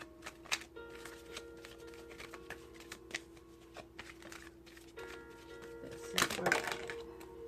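Tarot cards are shuffled close by with soft riffling taps and flutters, ending in a louder, fuller riffle near the end.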